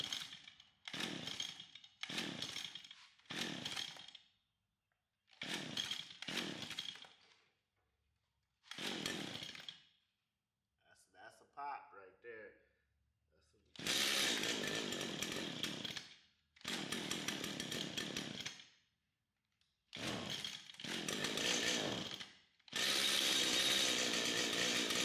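A Stihl string trimmer fitted with a new fuel tank and carburetor fires up in a series of loud two-stroke engine bursts, short sputtering pulls at first, then longer sustained running that cuts out and restarts, close and alone.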